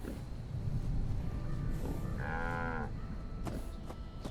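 A two-headed cow in the video game Fallout 76 gives one drawn-out, wavering moo at moderate loudness over a steady backdrop of game ambience.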